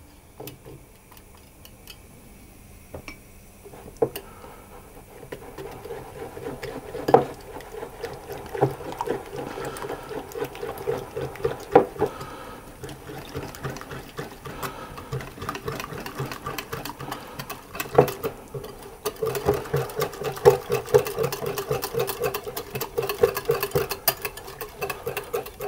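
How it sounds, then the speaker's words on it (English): Whisk beating ingredients for Boston brown bread in a bowl, a fast continuous ticking and scraping that grows louder and busier toward the end, with no talking. "And then I'm going to whisk those to get them combined."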